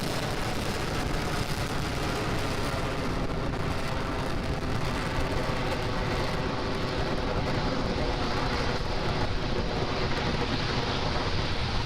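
A Falcon 9 rocket with Merlin 1D engines lifts off carrying the ANASIS-II satellite, a loud, dense, unbroken roar and crackle that stays steady throughout with no other sounds rising above it.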